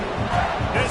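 Crowd roar in a college football stadium as the home fans try to rattle the offense, a dense, loud rumble behind the play-by-play commentator's voice, all in a single brief burst.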